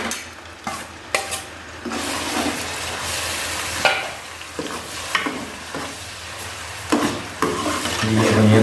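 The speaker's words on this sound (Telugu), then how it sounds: "అల్లం పేస్టు మంచిగా వేయించుకోవాలి" Ginger paste frying and being stirred in a pan for a chicken soup, a continuous close sizzle broken by repeated scraping strokes of a spoon, with no talking.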